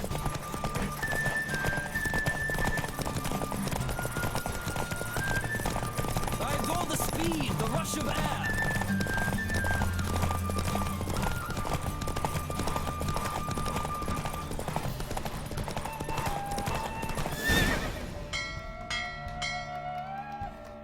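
Horse galloping under a rider in The Witcher 3, steady fast hoofbeats running throughout with a brief neigh, mixed with game music and a voice speaking over it.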